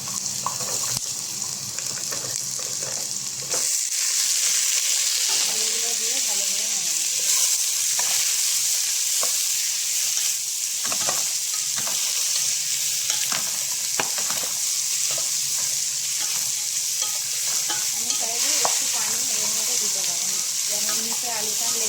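Potatoes are added to browned onions in a hot pan for a fish egg curry, and a loud, steady sizzle of frying goes on as the pieces are stirred and scraped repeatedly.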